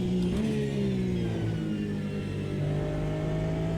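A car in Gran Turismo 7 revs and accelerates, its mid-pitched engine note rising and shifting through gear changes, steady and close with no voices.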